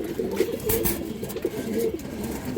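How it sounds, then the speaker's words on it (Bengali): A female Bezi pigeon coos close by in a few soft, low rolling coos, a short burst alone without talking. "একটা বেজি মাদি কৌতর অনেক সুন্দর"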